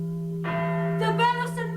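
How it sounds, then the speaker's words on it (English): A bell of St. Mark's rings in an audio play, a sustained resonant church-bell tone with rich overtones swelling as a second strike layers in, loud and close. "The bell of St. Mark's"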